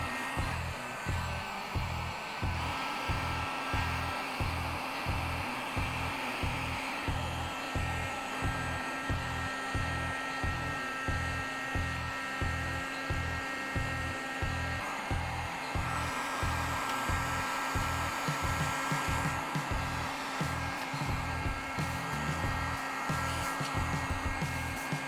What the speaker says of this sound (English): Let's just see how it does on the heat shrink.